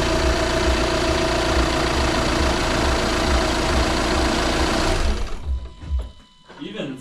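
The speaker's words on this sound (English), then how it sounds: "So we're gonna start the engine now," An Audi A4 B8 engine, freshly fitted with a new timing belt and run without coolant, idles with a steady, loud mechanical hum and rattle for about five seconds before cutting off into near silence.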